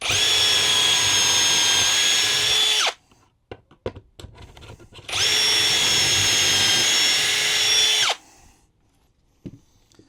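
A power drill whines loudly in two sustained bursts of about three seconds each, boring angled holes into a Mercedes Sprinter van during a shower build. Quieter handling clicks and knocks fall between the bursts.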